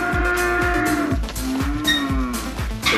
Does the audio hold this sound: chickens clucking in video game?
no